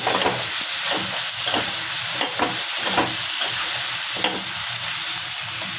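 Garlic fries in oil for a chicken kosha, with continuous loud sizzling close up and a regular rhythm of spatula stirring strokes scraping through the pan.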